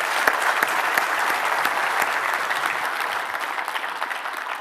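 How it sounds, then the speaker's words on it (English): Steady audience applause at a conference session, a thick wash of many hands clapping that gradually thins and softens toward the end. "let's give them another round of applause"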